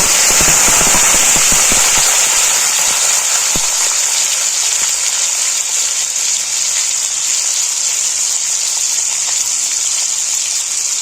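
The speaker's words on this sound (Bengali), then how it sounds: "দারচিনি, লবঙ্গ, এলাচ আর একটা শুকনো লঙ্কা ফোড়ন দিলাম।" Whole cinnamon, cloves, cardamom and a dried red chilli hit hot oil for a paneer dish, bursting into a loud, crackling sizzle with sharp pops early on that settles into a steady, hissing fry.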